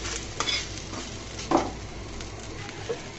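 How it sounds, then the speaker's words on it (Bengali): A potato dough snack frying in a pan with a little oil is turned over, giving a steady soft sizzle with a few scraping and tapping bumps from the flip, close by. "এই পর্যায়ে বন্ধুরা আমি নাস্তাটাকে উল্টিয়ে দিচ্ছি"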